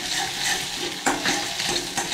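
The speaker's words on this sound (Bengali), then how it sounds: "সব কিছু দিয়ে আমি ভেজে নেব।" Food frying in a pan with salt while being stirred, giving a steady sizzle with a few scraping stirs and no talk.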